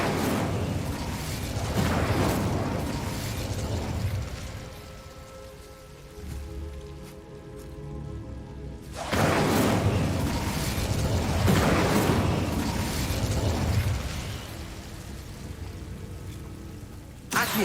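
The Incendio fire spell in the video game Hogwarts Legacy erupts in loud roaring bursts of flame with crackling, rain-like hiss, ebbing briefly midway before surging again.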